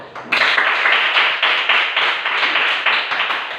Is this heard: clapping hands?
yes